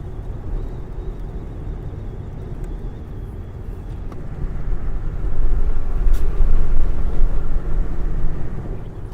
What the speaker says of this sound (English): My car's making all kinds of noises.